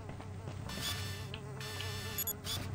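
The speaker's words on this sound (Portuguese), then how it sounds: "Espera aí, está aqui uma mosca para tirar a foto." Buzzing fly in the video game Beyond Good & Evil, a steady close whine that rises and falls over a continuous game ambience and music bed, with no voices.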